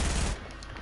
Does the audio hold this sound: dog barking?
no